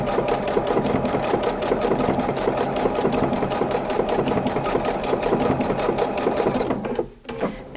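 PFAFF creative icon sewing machine stitching a blind hem, a loud steady rhythmic whir of the needle running continuously close up, then stopping near the end.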